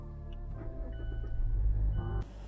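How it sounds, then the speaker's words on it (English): Car engine starting as the vehicle is switched on, a low rumble building over about two seconds and then abruptly giving way to a bright hiss, close and fairly quiet with no talking. "Just turn on your vehicle."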